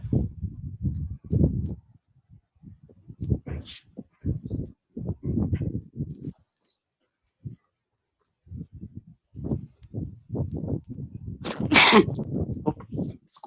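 A single sharp sneeze bursts out late in a stretch of quiet room noise and soft thumps during a coding lesson, close and abrupt.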